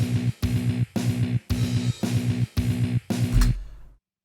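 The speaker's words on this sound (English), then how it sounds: "the kick on 1 and 3, snare on 2 and 4," Straight drum beat played in sixteenth notes, kick on beats one and three and snare on two and four, heavy distorted metal groove with bass, repeating in short even bars, loud and close, then a ringing stop and silence.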